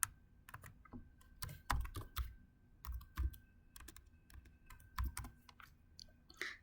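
Typing on a computer keyboard to enter an email address or username into IoT software, a close run of irregular key clicks with louder thumps from heavier strokes, no voices.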